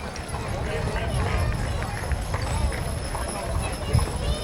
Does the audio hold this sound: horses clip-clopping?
yes